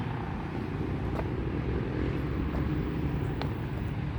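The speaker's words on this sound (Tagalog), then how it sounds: "kung maririnig nyo yung mga sasakyan, yan na po yung highway." Traffic on a nearby highway, a constant low rumble of passing vehicles with faint whooshes rising now and then, heard from a short distance with no talking.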